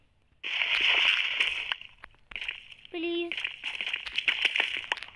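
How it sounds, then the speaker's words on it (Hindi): Water flowing and sloshing in the Minecraft video game, a steady rushing wash that is loud and near, broken by short gaps, with someone talking over it. "यहाँ से भी पानी आ रहा है।"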